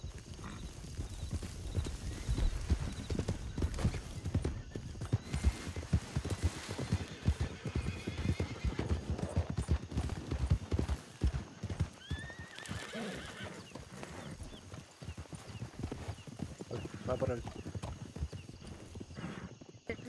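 Horses in the video game Red Dead Redemption 2 clip-clop steadily throughout, with neighs and whinnies rising over the hoofbeats and a voice talking briefly.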